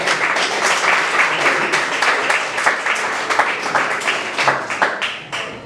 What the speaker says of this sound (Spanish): aplauda al Señor, se le va a aplaudir.